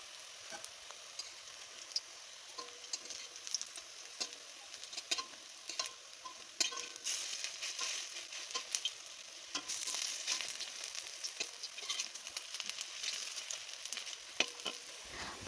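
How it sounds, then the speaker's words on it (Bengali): Onion pakoras fry in hot oil in a kadai, giving a continuous soft crackling sizzle with scattered sharper pops and bubbling, fairly quiet and close, with no voices. "পকোড়াগুলো ভাজার সময় গ্যাসটাকে মিডিয়াম করে দেবেন"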